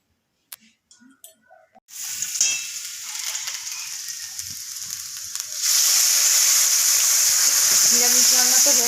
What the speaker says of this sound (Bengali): এবার মাছটা করছি মাছ ভাজলে কারি হবে